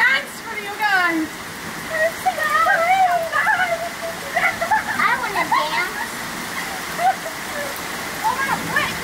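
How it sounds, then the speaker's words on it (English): Steady downpour of heavy rain hissing close by, with several voices chattering and calling out over it. "We hate this rain."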